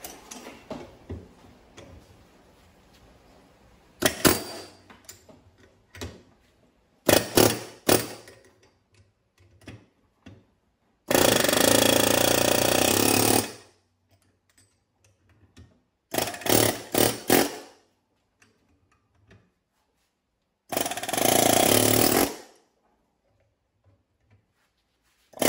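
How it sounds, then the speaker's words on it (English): A chisel working on the front wheel bearing of a 2016 Nissan Versa: loud, rattling mechanical bursts of a few seconds each, separated by near silence, with no talking. "Get my chisel back out."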